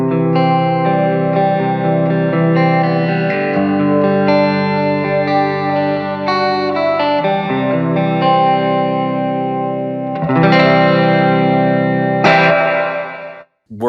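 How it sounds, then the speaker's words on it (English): Guitar played through a Cumulus 3-way plate reverb pedal, its sustained chords and single notes ringing with a lush reverb tail, loud and close, with a brighter strummed flourish near the end and no talk. "If your reverb pedal has a tone control, like the Cumulus does, and it has a plate,"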